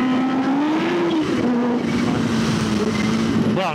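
A Kawasaki H2 motorcycle engine roars loud and close through a corner, its steady pitch dipping and holding with a brief rise near the end as it shifts down, with no talk.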